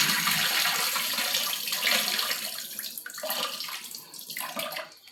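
Running water gushes steadily from a tap as goat trotters are rinsed clean for biryani, the splashing shifting in tone as the meat is moved under the stream.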